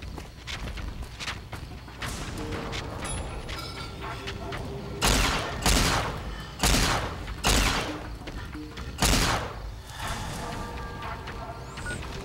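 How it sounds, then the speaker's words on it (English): Gunshots in the video game Fallout: New Vegas, a handful of loud, close, separate blasts spaced a second or so apart over a steady background of game ambience. "what are you shooting at?"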